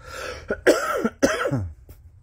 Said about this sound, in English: I got a little residual cough from when I had COVID